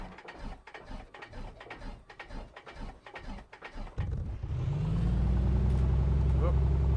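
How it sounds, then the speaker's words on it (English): Piston aircraft engine starting in a flight simulator: a few seconds of rhythmic starter cranking, then the engine catches and settles into a loud, steady running drone. "Gonna turn off the fuel pump and let's start our engine."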